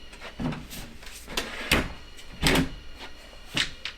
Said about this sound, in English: carefully I'm going to bring the door back in